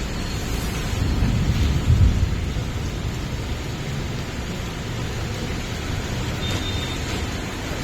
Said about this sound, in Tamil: சரியான மழைங்க, ஒரு 2 மணி நேரமாக செம்ம மழை.